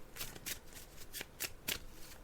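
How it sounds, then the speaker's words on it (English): Tarot cards being shuffled by hand for a reading, close and quiet, with about six crisp riffling bursts in an uneven rhythm separated by brief soft pauses. "I'm just shuffling the cards now"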